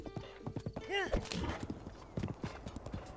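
Steady galloping hoofbeats of a horse in Zelda: Breath of the Wild, with a loud whinny near the start, under someone talking over the running rhythm.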